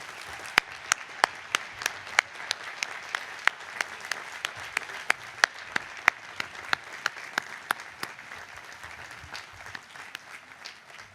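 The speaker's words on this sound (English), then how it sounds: "May we please have a round of applause for all they have done for our graduating class." Sustained audience applause at a university commencement ceremony honoring faculty, a steady dense patter of many hands with occasional sharper claps standing out, moderately distant and continuous throughout.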